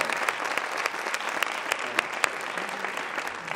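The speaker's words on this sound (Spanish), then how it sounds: "Pues un aplauso para Paco." An audience at a Fuckup Nights event in Spain applauds a speaker, a dense, even crowd clapping with scattered sharper claps standing out, close and sustained throughout with no talking.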